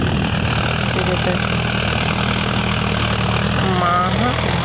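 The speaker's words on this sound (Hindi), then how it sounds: "बड़े वाले भाई हैं तो ट्रैक्टर धर के आए हैं" A tractor engine runs steadily in a farm field, a loud continuous low rumbling drone that never lets up, with people talking faintly beneath it.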